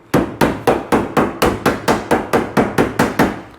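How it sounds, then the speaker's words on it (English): Two hammers knock van window trim pieces tighter together during a camper van conversion, giving about thirteen sharp metallic strikes in a steady, even rhythm, close and fairly loud, each with a short ringing decay and no talking. "Every now and again it might take 2 hammers as well just to knock a few bits like tighter together"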